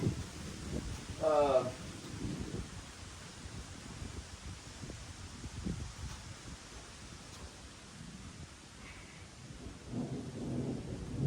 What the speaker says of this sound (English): there's some pretty good storms coming in here right now.